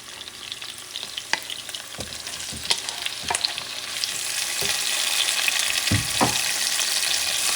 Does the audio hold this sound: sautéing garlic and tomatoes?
yes